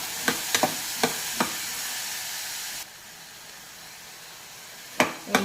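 Bitter gourd frying in oil gives a loud, steady hiss, broken by sharp spoon clicks against the pan. The sizzle then drops abruptly to a quieter bubbling, and another couple of stirring knocks follow near the end.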